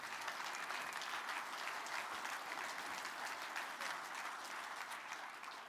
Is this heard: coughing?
no